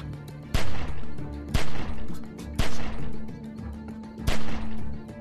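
Gunfire in The Walking Dead video game, four sharp, loud shots spaced roughly a second apart over a low, rumbling background.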